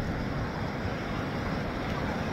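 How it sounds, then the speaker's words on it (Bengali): Sea waves at Kuakata beach, running high after a cyclone, roar as continuous loud broadband surf mixed with wind buffeting the microphone. "আসলে ঘূর্ণিঝড়ের পরে কুয়াকাটার ঢেউগুলো অনেক বাড়ছে"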